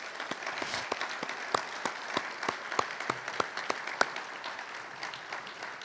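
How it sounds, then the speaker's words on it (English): Soft, steady applause from a modest audience at a college athletics press conference welcoming a new coach, honoring a young man and staff; individual hand claps stand out sharply within a thin, distant-sounding patter. "please give this young man and the staff that's still here a round of applause"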